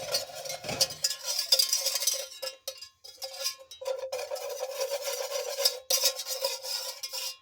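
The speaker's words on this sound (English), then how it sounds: "let me kind of stir this around" Tomato paste from a 10-ounce can is stirred in a hot pot as it starts to catch and burn, giving continuous close scraping and rubbing strokes with short pauses between passes.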